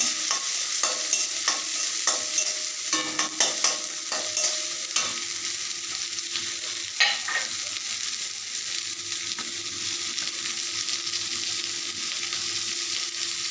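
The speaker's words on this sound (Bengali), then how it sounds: "সঙ্গে দিলাম কাঁচা লঙ্কা চেরা অল্প একটুখানি নেড়ে নেব" Slit green chillies frying in a pan for a Lote fish fry, stirred with a steady broadband sizzle and scattered scraping clicks of the spatula, busier at first and then settling into continuous hiss.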